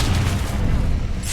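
A Confringo blasting spell explodes in a magic video game, a loud sustained booming burst that fills the moment alone.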